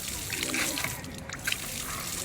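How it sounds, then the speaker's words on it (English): Water trickling and splashing from the finger-pressed nozzle of a public street water pump on DeVoe Street, Centerville, a steady close sloshing stream with faint voices nearby. "At this water pump through DeVoe Street, you have to stick your finger in the nozzle to get the water out."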